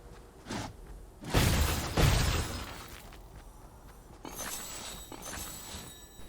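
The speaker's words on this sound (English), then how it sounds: "I'll go ahead and blast open these fruit and see what I get" Fortnite player blasting open fruit hanging on a tree, giving a couple of loud cracking, shattering bursts with mechanical clatter, then quieter rattles and small breaking sounds over steady game background.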